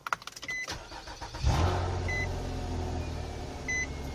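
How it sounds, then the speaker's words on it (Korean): Close-up interior of an imported sedan: a few clicks and beeps, then a gasoline engine cranks and settles into a smooth, low idle, with soft chimes sounding over it. "자, 바로 시동부터 한번 걸어보도록 할게요."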